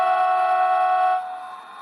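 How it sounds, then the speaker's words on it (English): Model train air horn played through an ECoS digital decoder, a single loud, steady multi-tone blast held for about a second before cutting off into a fading tail. "that's the air horn."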